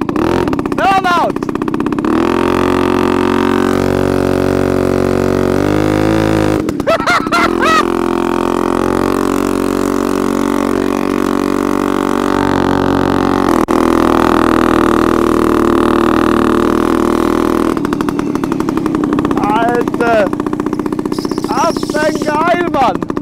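Homemade boardtracker moped engine doing a burnout, a loud, rough motor roaring and revving continuously up close while people shout and talk over it.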